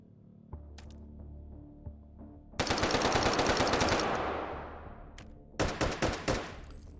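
An M60 machine gun fires in the VR shooter H3VR: a long sustained burst, then a short break, then several quick bursts, loud and close with no talking.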